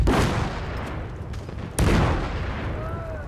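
Sustained gunfire and explosions from a Battlefield 1 battle, with machine guns firing in a dense, continuous roar and a sharp loud burst midway, all close and loud with no talk.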